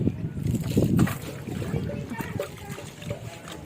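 Hot spring water at the Vajreshwari Yogini Devi temple tanks pours and splashes into a bucket, a dense close rush of water heard under people talking.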